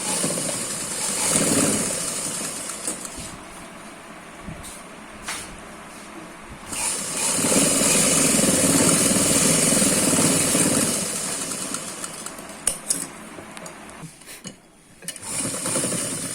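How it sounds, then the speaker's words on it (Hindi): A sewing machine stitching fabric for a long umbrella frock with attached collar, its motor running in a steady whirring drone that swells and eases in long bursts, close up with no speech. "इस तरह से हम सिलाई कर लेंगे"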